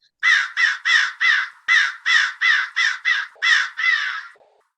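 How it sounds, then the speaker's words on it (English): Crows caw in a rapid series of about eleven loud, harsh calls, close and evenly spaced, with a slightly longer final call and no other sounds. "get the crows ready"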